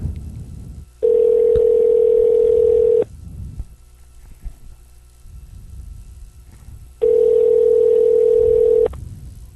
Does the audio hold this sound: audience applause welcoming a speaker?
no